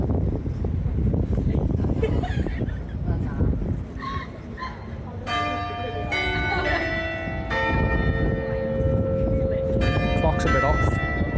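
A clock tower bell rings several ringing strikes that hang and overlap in the second half, heard over busy outdoor noise while people talk nearby.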